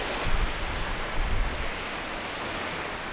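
Waves wash into a small beach cove on a broad, steady roar of surf, with two louder surges early on before the sound settles into a continuous rush; light wind buffets the microphone.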